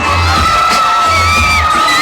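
A crowd shouts and cheers at a live rap show during an auto and moto event, loud and dense with whoops and yells, heard close and continuous with a sustained tone running above it.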